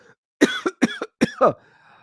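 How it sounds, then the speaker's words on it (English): A burst of several harsh coughs in quick succession, close and fairly loud, trailing off into a brief rasp. "Can't even make the joke without coughing"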